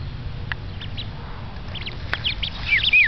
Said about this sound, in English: Look, your little duckies.